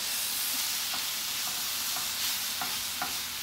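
Coconut filling with cinnamon and vanilla essence sizzles in a hot pan as it is stirred, a loud continuous hiss with regular soft scrapes roughly every half second, close and with no voices.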